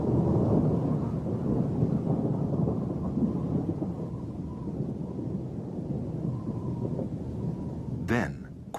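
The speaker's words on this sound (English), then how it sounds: "Until it escalates and turns into a full-blown storm." Heavy rain pours down in a thunderstorm over the Drakensberg mountains, a dense steady roar with low rumbling thunder throughout and a brief sharp crackle near the end.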